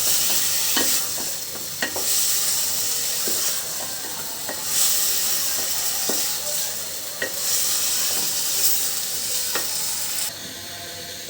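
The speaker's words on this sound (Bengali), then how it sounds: "ভালো করে মশলার সঙ্গে মাখিয়ে নেব।" Washed vegetables stirred into cooked spice paste in a pan, frying with a steady loud sizzle and hiss, broken by repeated scraping stir strokes of a spatula at an irregular rhythm, with no talking.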